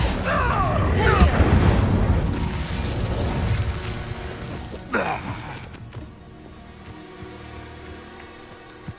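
Incendio fire spell cast in Hogwarts Legacy on PS5, a dense burst of roaring flame and crackling impacts with booming pops, loud at first then fading into a low rumbling tail, with game voices speaking over the opening.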